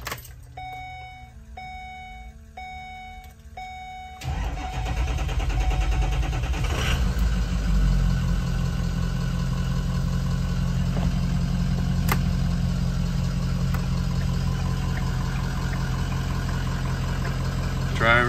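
A Ford E450 Econoline school bus with a Collins body and a Power Stroke 6.0 liter V8 turbo diesel starts after a few chiming warning beeps, then settles into a steady, loud diesel idle that runs on alone.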